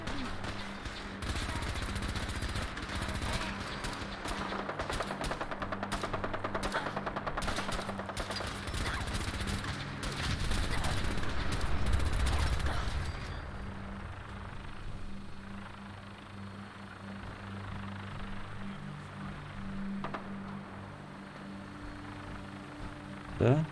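Rapid bursts of automatic gunfire crackle through a battle with the Brotherhood in Fallout 4, dense and continuous for several seconds before thinning out, with a rumbling engine drone beneath and someone talking over it.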